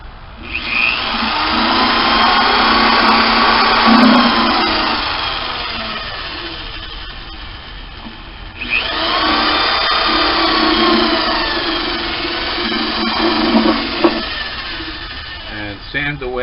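A small power tool whines steadily in two long runs while sanding chips inside drilled holes in an arch-top guitar, with a person talking underneath.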